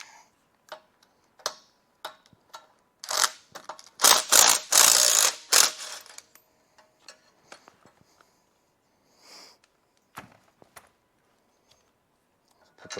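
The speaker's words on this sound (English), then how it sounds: "I'm gonna flip those bolts over" U-bolts being flipped over on a Jeep front suspension during fabrication: scattered sharp metallic clicks and ticks of bolts and hardware, with a denser burst of clanking and rattling in the middle, then sparse taps.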